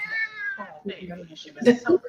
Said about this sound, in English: it's a kitty cat talking